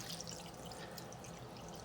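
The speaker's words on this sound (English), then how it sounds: "Now we're going to cover it in cold water." Cold tap water runs steadily over shrimp coated in baking soda, a faint, continuous hiss of flowing water with no other sounds.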